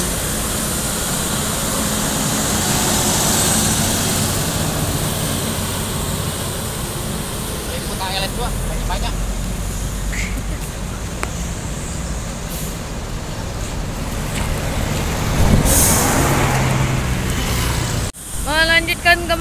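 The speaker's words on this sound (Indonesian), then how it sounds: "Kembali bus ANS menuju arah rantau" An ANS intercity bus driving on an Indonesian road, a loud steady engine and road rumble with brief clicks and a rising whoosh near the end, while a voice talks over it.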